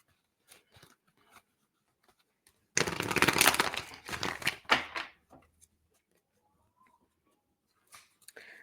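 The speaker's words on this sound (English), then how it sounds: "I'm just still going to shuffle some more before I start to read." Tarot cards being shuffled by hand, a dense burst of riffling and crinkling that lasts about two seconds, then a few softer handling rustles, close and fairly quiet with near silence around it.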